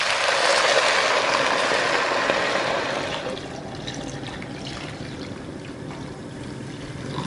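Water pours steadily into a pot of lentils, carrots, beetroot, kombu and bay leaves, a bright splashing rush for a few seconds that then settles into a quieter trickle and fade.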